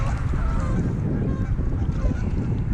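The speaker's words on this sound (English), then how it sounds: "ducks over there fighting, or geese" Geese or ducks squabble and honk on the water beside a fishing kayak, a steady noisy wash of water and wind running underneath for the whole stretch.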